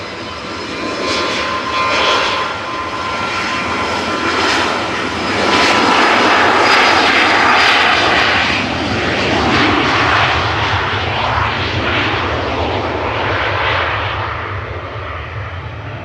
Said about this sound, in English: Here's this little jet.